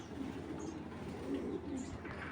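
Large racing pigeons cooing softly and steadily in a loft, low murmuring calls under a faint background hum.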